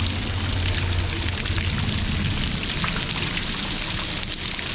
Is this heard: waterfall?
yes